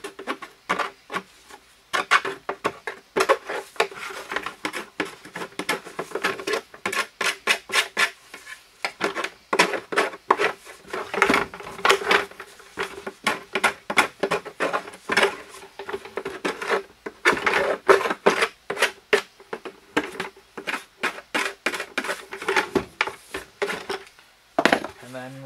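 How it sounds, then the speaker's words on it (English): Hand file or knife scraping burrs from a hole saw cut in a plastic bucket, a close, steady run of short rasping strokes with brief pauses between bursts. "you can just take like a file or a knife, whatever you have, and just clean out the burrs that the hole saw left behind"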